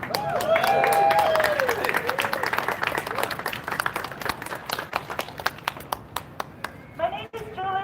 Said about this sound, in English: Ourselves a round of applause.